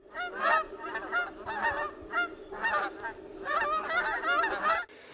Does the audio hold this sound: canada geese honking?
yes